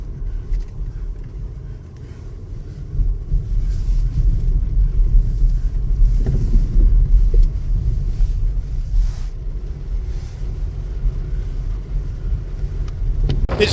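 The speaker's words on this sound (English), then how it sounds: "It's windy here, as you can see" Strong wind buffets the microphone at the port of Brindisi, a steady loud low roar with gusts throughout, a faint engine hum mixed in.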